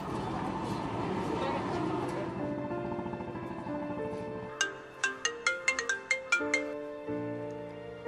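A mobile phone rings after a call is placed in a school drama, a melodic electronic ringtone playing a series of bright, repeated chime notes, preceded by a denser musical passage.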